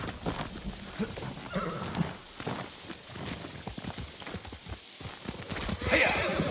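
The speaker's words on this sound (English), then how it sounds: "Horse!" Horse hooves clip-clop steadily with a neigh in the video game Ghost of Tsushima, set against a soft rain-like backdrop and game ambience, at moderate loudness.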